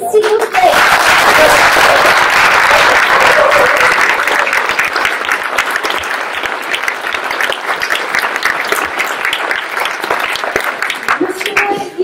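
Sustained audience applause fills a hall during a mayor's New Year ceremony in Campénéac, loud and dense clapping from a crowd lasting throughout, tapering slightly toward the end.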